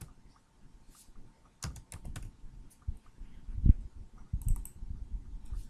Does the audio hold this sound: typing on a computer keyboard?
yes